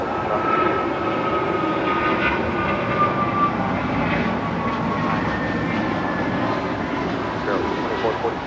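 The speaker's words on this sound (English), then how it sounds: "This is American Airlines Flight 612 departing to Orlando, Florida on an A321neo." An American Airlines Airbus A321neo jet departs Los Angeles International Airport, its engine roar steady and loud throughout with no break.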